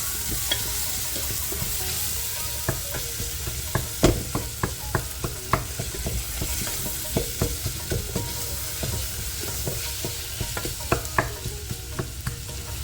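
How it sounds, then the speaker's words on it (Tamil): Tomatoes and onions sautéing with salt in a pan for a one-pot arisi paruppu sadam: a steady close sizzle punctuated by repeated sharp spoon-against-pan scrapes and taps throughout, no talking. "கொஞ்சம் உப்பு போட்டுக்கோங்க, அப்போ சீக்கிரமாக தக்காளியும் வெங்காயம் வதங்கும்."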